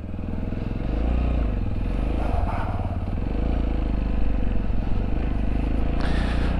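A SINNIS Terrain 125 motorcycle engine chugs steadily and close by with a throbbing low-pitched beat, some clatter, and a brief rise in revs near the end.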